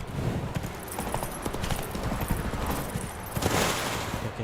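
Horse hooves clip-clop steadily in The Witcher 3, a brisk, close rhythm running the whole time over a busy layer of game ambience.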